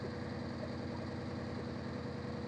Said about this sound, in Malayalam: ആ ഒരു ടക് ടക് ടക് ടക് ടക് ടക് ടക് എന്നുള്ള ഒരു സൗണ്ട് കിട്ടുന്നുണ്ട്